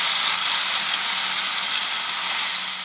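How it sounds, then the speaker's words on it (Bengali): Marinated chicken dropped into hot oil in a kadai for a dahi chicken dish, giving a loud, close, continuous bright sizzle that fades slightly toward the end. "মাখানো সেই বললেন চিকেনটা আমি এবার তেলে ছেড়ে দেব।"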